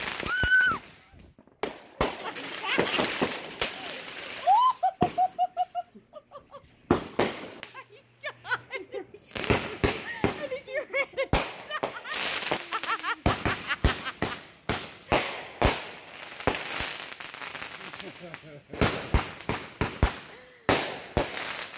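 Amateur fireworks lit at a summer outing: a string of sharp, crackling bursts and pops in rapid irregular clusters, loud and close, with people's voices and shrieks mixed in between the blasts.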